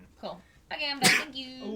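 A single sharp sneeze bursts out amid casual talk among players at a tabletop role-playing game session, with speech before and after it.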